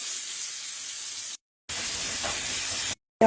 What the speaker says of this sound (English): And we're going to saute this up.